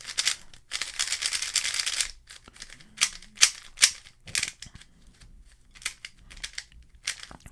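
A QiYi MS magnetic puzzle cube being turned gives a string of quick, light clicking and rattling bursts, a longer dense stretch of rapid turns followed by separate sharp snaps, close and dry.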